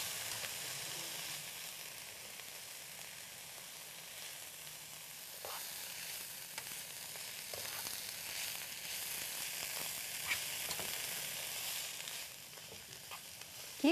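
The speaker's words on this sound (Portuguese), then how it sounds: "Você mexe um pouquinho para dar aquele vaporzinho que fica na panela." Food sizzling in a pan while being stirred, a continuous bright frying hiss with occasional scraping and clinking of a utensil, fairly close and alone without speech.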